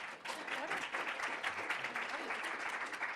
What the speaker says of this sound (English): You're all supposed to applaud now.